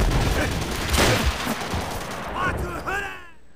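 Gunfire in Call of Duty World at War on the Wii, on the Upheaval team deathmatch map, with dense close shots and bursts throughout, followed by ringing ricochet-like tails near the end.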